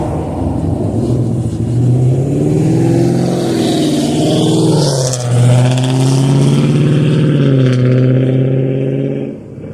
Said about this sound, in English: they got a car that can make noise